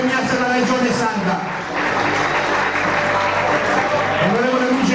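Sustained, loud applause fills a crowd at a Sardinian athletics awards celebration, steady clapping throughout with a voice calling out over it.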